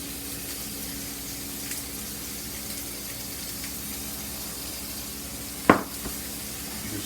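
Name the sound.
steaks searing in a hot skillet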